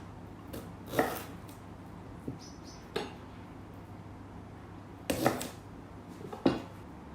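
Ginger smashed rather than cut, several sharp, separate thuds and knocks on a board spaced a second or two apart, close by in a quiet kitchen.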